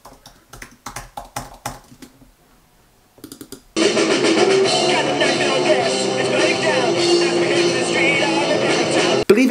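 A lo-fi old recording of a teenage rock band with a 15-year-old singer bursts in loud and dense after a few seconds of sparse clicking and tapping, then plays steadily to the end.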